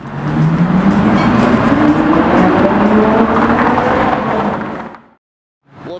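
Straight-piped Ferrari GTC4Lusso roaring past loud and close, a rising, rasping exhaust wail that fades out abruptly, then a brief burst of another engine returns at the end.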